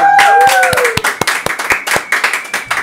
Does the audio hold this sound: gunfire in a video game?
no